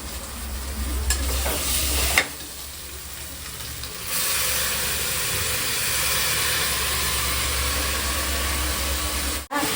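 Chopped onions with mint and coriander leaves sizzle steadily in a hot pan for biryani, a loud continuous frying hiss broken by a few stirring scrapes, with a brief clatter near the end.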